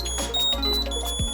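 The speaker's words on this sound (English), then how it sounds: "press the play sound button and the device will beep" A Ugreen Smart Finder tracker beeps in short, high electronic tones, several brief chirps and pulses over a little more than a second, close and fairly loud with no voices.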